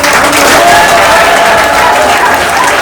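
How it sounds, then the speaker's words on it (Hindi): An audience at an Indian corporate award ceremony gives the speaker loud, dense, sustained applause, a steady wash of many hands clapping close and full. "एक बार सर के लिए भी जोरदार ताली बजाइए।"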